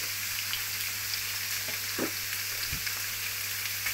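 Cassava leaves frying in a pan with spices as they are stirred: a steady, even sizzle throughout, with a couple of soft scrapes from the spoon against the pan.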